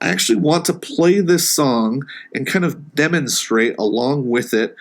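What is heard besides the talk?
No everyday noises stand out.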